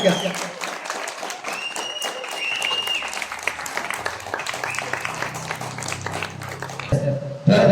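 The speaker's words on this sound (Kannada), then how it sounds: "ಜೋರಾದ ಚಪ್ಪಾಳೆ ಬರಲಿ, ಯಾಕಂದ್ರೆ ಅವ್ರ ಸಹಕಾರ ನಮಗೆ ಬಹಳ ಮುಖ್ಯ." Audience applause at a summer camp ceremony, with dense, sustained clapping from a crowd that runs nearly the whole time and fades briefly near the end, while a voice speaks over it.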